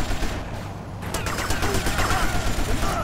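Sustained AK rifle fire rattles in rapid repeated bursts in Grand Theft Auto Vice City Stories, loud and close against a constant noisy background of game action.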